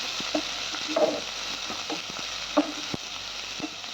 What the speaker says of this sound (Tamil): இது எல்லாத்தையும் வதக்கிக்கலாம்